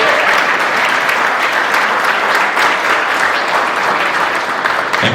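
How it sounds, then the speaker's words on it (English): Sustained, dense applause from a banquet audience honoring a pole vault state champion at a track and field hall of fame induction dinner, loud and steady throughout with no speech over it. "Give her a round of applause"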